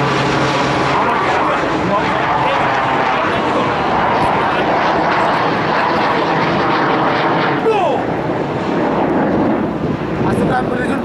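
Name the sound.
T-50 military jet aircraft flying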